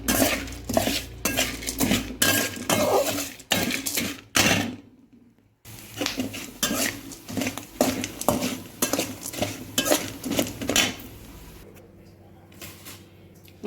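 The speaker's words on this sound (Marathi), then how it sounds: "आता नाकेश्वर आणि त्रिफळा आपण एकत्र भाजून घेऊया तेलामध्ये" Nagkeshar and triphala are roasted in oil in a kadhai for Kolhapuri chutney. A spatula scrapes and clanks against the pan in quick, rhythmic bursts, with one brief pause and a quieter stretch near the end.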